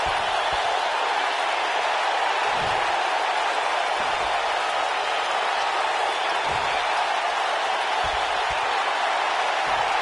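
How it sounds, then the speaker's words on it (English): A wrestling arena crowd in WWE 2K18 at a Survivor Series pay-per-view: a steady, dense roar of cheering and applause that fills the space without letup, with a few dull thuds underneath. "Nothing quite like a pay-per-view audience, guys, and I'd say this crowd ranks right up there with some of the loudest in recent memory."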